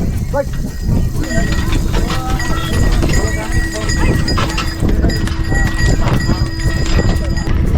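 Hooves of a bullock cart clop steadily through a ride near the Isha Yoga temple in Coimbatore, Tamil Nadu, a loud, close, continuous rhythm with voices talking over it.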